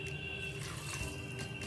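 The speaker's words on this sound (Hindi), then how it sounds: "अब मैं इसमें 2 कप पानी ऐड कर देती हूँ।" Two cups of water poured into a cooking pot while making kulfa with chana dal, a steady rushing splash that runs continuously and close, with no one speaking.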